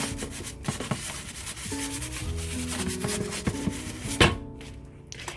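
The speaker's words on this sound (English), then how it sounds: "we can use the scrubber" A scrubber rubs over a stubborn stain on a rice cooker cover, making steady close scraping and rubbing strokes with a few sharper knocks near the end.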